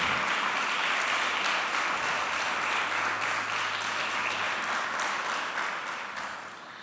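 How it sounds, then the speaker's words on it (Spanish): A church congregation gives sustained applause during a worship service, a steady wash of many hands clapping at even loudness that fades slightly at the end, with no speech over it. "Denle un aplauso al Señor"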